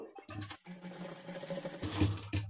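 A sewing machine runs over folded lehenga blouse fabric for a child's outfit, its low motor hum and rapid needle ticking fairly faint, with a brief pause partway through before stitching resumes.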